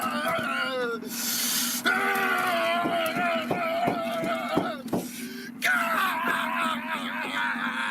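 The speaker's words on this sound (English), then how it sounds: "He jumps in his car and has a bit of a scream." A man screams inside his car in a 1970s horror film, a strained, wavering yell rising and falling over several seconds against a steady low hum, with short sharp bursts breaking in.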